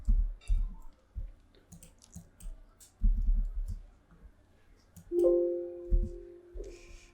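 Computer keyboard typing during Adobe Illustrator work, irregular close key clicks in short bursts, followed by a brief tonal beep near the end.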